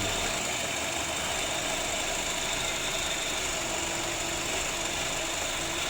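A steady engine idle drones on without a break, a dense mechanical hum with no voices over it, while spark plugs are tested one at a time.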